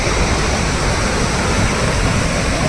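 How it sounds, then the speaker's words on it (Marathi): Floodwater of the swollen God river pours over a submerged weir joining Chandoli Khurd and Chandoli Budruk after heavy rain, making a loud, steady, close roar of rushing water with no pause. "गोड नदी मोठ्या प्रमाणात दुथडी भरून वाहत आहे"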